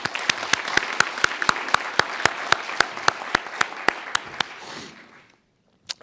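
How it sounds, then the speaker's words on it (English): An audience at the Harper Lee Prize ceremony claps for about five seconds, a dense wash of applause with a few sharp, close hand claps standing out, before it fades to near silence and one last clap. "Please join me in recognizing our selection committee with a round of applause."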